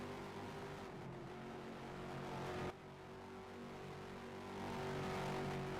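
A ROX Mods race car works through the final corners at Sebring during night qualifying, a steady engine drone with a brief dip midway and a rise toward the end, heard at moderate distance with no talk.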